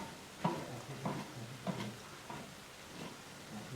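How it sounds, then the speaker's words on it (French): A spoon stirs beans and smoked fish in a pot, making about five rhythmic scraping strokes roughly every half second over a low background rumble, close and moderately loud, with no talking. "Donc c'est comme ça on mélange."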